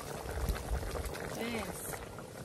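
Meat cooking in a pot on a small farm, bubbling and gurgling softly in the background while a person talks over it.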